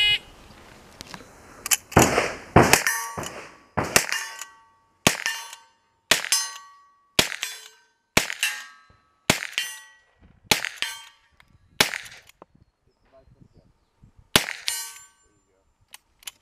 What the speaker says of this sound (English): If you miss a target, you have to keep shooting until you hit that target before you go to the next one.